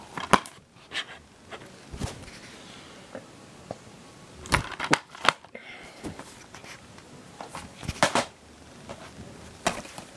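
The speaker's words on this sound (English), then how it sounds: "that sticker's kind of peeling, so I'm gonna peel it off" A sticker is peeled off a DVD case in a quiet room: scattered sharp crackles and tearing scrapes come in short bursts, close and fairly faint, with pauses between them.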